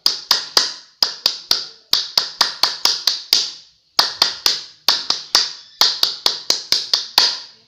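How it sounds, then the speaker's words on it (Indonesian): A primary school class doing the Indonesian scout clap, tepuk pramuka, with sharp unison claps in patterned rhythmic groups separated by short pauses, loud and close, with no talking. "yuk kita melaksanakan tepuk pramuka dulu. Tepuk pramuka."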